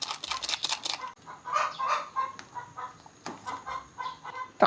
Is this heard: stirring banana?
no